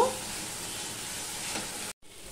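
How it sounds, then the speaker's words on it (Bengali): Bhetki fish frying in hot oil, a steady close crackling sizzle that cuts out briefly near the end before resuming. "এবার এটা আমি ভালো করে ভেজে নেব"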